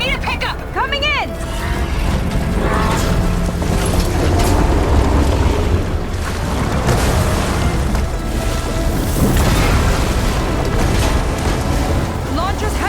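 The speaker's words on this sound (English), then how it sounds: "Blowing up that last heat sink might have breached the hull." A heat sink blows up in Horizon Forbidden West, producing sustained, dense explosive roaring and rumbling throughout, loud and close, with layered blasts and churning noise mixed under game sound and voices.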